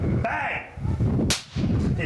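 A capacitor bank discharges through a near dead short, giving a sharp, loud bang followed by another sharp crack about a second later, with a brief quieter gap between them.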